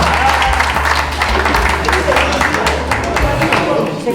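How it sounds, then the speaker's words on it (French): An audience at a French stage show claps for a volunteer named Stéphanie, a loud, steady wash of applause that keeps going with murmuring voices blended underneath. "je vous donne un applaudissement"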